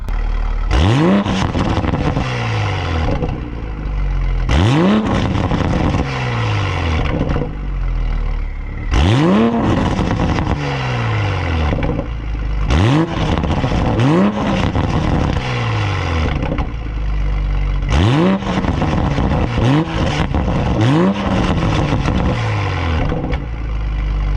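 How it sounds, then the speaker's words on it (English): A Toyota Supra MK5 engine with a catless downpipe, in sport mode, revs hard again and again in a steady pattern, each sharp rise to a roaring peak followed by a crackling drop, loud and close. "Let's go ahead and listen to some revs in sport mode."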